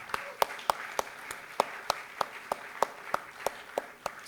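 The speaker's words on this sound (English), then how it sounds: "let's give him another round of applause." Sharp, evenly spaced claps repeat at a steady rhythm over a low background hiss, like a small crowd clapping along.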